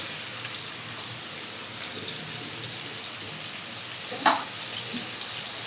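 Spices sizzling in a pan for a fish and okra curry, a steady soft frying hiss, with one brief louder sizzle burst midway as tomato goes in.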